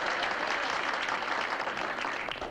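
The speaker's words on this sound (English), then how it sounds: "Ladies and gentlemen, a very big round of applause for Martha." Dense, steady audience applause for Martha fills the whole clip, loud and close, thinning slightly at the very end with no talk over it.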